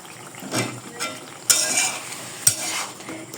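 Raw jackfruit pieces dropped one by one into hot oil, giving a soft sizzle with stirring scrapes and a few sharp metallic clinks of a utensil against the pan, with no talk.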